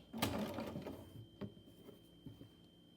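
Sewing machine stitching a half-inch seam for a fly front zipper on pants, a short close burst of mechanical whirring that fades into a few softer clicks and taps.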